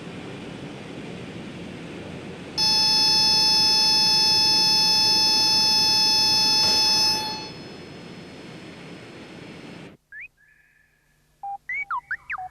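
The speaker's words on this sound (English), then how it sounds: "Here's a dramatic demonstration of how noise can be reduced, a test using a buzzer." A loud, steady electronic buzzer tone drones for several seconds over constant roaring noise, then cuts off, leaving near silence with a few short chirps.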